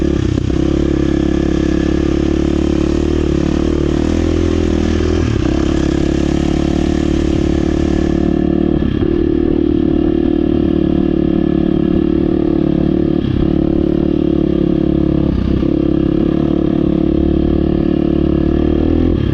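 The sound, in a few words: KTM 350 XCF dirt bike engine while riding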